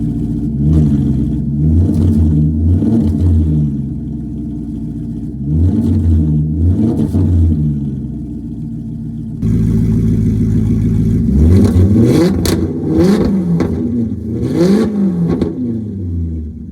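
A Maserati GranTurismo 4.2 V8 with its exhaust system removed, revved hard in repeated loud bursts that rise and fall over a steady idle, very close and raw with no talking.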